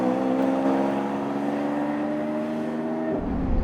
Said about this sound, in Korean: 이게 바로 이제 다운시프트 이렇게 소리가 나죠